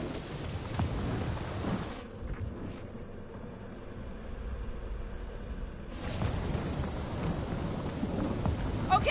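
Stormy weather in the Guardians of the Galaxy video game: steady heavy rain with low rumbling thunder, the wash of rain dropping away briefly midway before surging back, continuous and enveloping.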